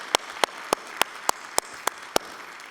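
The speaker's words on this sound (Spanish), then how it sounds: "Dale un fuerte aplauso al Señor." A church congregation claps in unison during a Spanish-language sermon, about eight sharp, evenly spaced claps in a steady rhythm, loud and close, with no voices.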